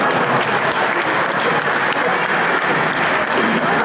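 Loud, sustained applause from a large crowd at a political gathering, dense steady clapping filling the whole stretch with no pauses.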